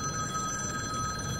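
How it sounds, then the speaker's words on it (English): A phone rings with a steady, continuous electronic tone throughout, fairly loud and alone with no voices over it, interrupting an outdoor talk about membership votes. "there's my phone interrupting the video"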